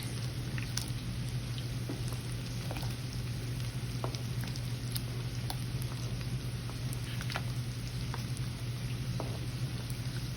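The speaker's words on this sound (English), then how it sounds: "And I'm just going to put all my potatoes in the boiling water." A pot of boiling water bubbles and hisses steadily with a constant seething roar and scattered small pops and clicks as potatoes are added, no voices, under a low electrical hum.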